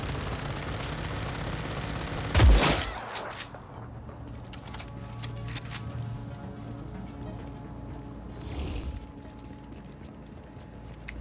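A fixed mounted gun fires in the Just Cause 4 video game: one loud, booming blast, then a weaker burst several seconds later, with a quieter rumbling background between them.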